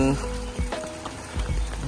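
Morning rain falls steadily over a garden with pink coral vine and lemon trees, a soft continuous patter under a voice talking close by.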